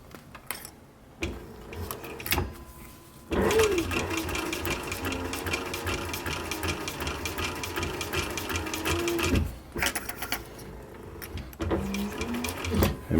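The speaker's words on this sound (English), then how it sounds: "I pick a spot on this presser foot to use as a guide so I can get my spacing just right." A sewing machine stitches fabric for a military patrol cap, its steady rapid mechanical whir running in several bursts separated by short pauses, close and fairly loud.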